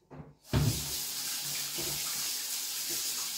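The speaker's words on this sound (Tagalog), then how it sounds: "Manghinaw ako muna dito sa lababo namin sa kusina." A kitchen sink tap turns on with a brief knock, then water runs steadily and close for several seconds as hands are washed.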